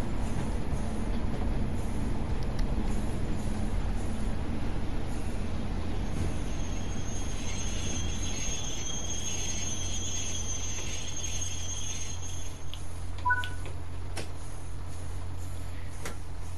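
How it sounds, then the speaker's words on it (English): A Class 47 locomotive in BR Blue livery passes hauling Mark 1 and Mark 2 carriages, a steady rumbling roll with high wheel squeal that eases off toward the end. "a class 47 going by with a large BR Blue logo carrying Mark 1 and Mark 2 carriages"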